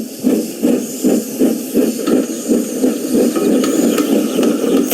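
A steam locomotive puffing steadily, about two chuffs per second in an even rhythm, with a breathy hiss of steam running underneath, close and loud and heard alone.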